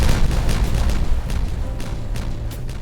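Explosions from the Timberborn video game, a dense run of loud booms and bursts in quick succession, heavy low rumble with sharp cracking pops layered on top, no voice.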